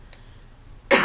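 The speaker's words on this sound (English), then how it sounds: "I still got the cough, and it's not from the smoking, it's from my bad cold" A single sharp cough from someone with a bad cold, loud and close, bursting out at the end after near silence.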